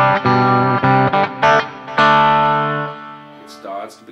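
A Fender Stratocaster electric guitar through a crunch channel with the volume knob raised plays a few slightly dirty chords, then one sustained ringing chord that decays; bright, loud and close, with no talking.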